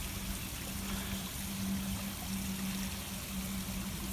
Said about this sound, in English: Can you hear the water running? There's a little waterfall that comes down back there.